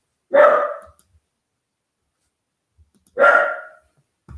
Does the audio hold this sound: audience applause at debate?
no